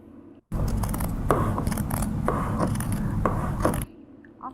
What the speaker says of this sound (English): You can see that even though the scissors I'm using are sharp, it's pretty hard to cut the fabric I'm working with.